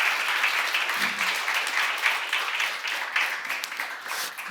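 Church congregation clapping in unison during a seminar, a sustained, even patter of many hands that carries on throughout at a fairly strong level.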